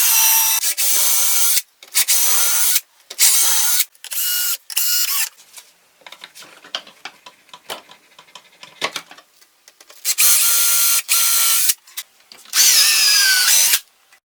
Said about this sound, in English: with a slightly thinner drill bit and a depth stop, I drill them a bit deeper.